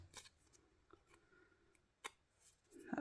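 Quiet, crisp snips of scissors cutting scrapbook paper, a few separate clicks spaced irregularly, close and faint.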